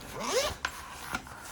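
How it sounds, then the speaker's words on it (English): A zipper is pulled around a gold folio in a quick rasping run, then two short sharp clicks of the pull follow, close and clear with no talk. "just a single zipper pull, but the zipper goes around and the folio is safe."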